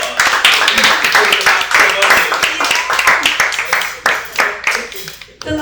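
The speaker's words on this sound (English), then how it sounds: "Round of applause." An audience at a Black Writers Weekend event in Atlanta bursts into a round of applause, dense overlapping claps filling the room loudly and steadily, with some cheering voices mixed in.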